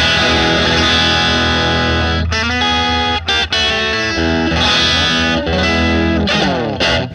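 A Marceau Guitars Telecaster-style electric guitar is played through distortion and effects units, giving a loud, dense, saturated tone with chorus-like shimmer. Chords ring continuously with a few brief breaks and no talking.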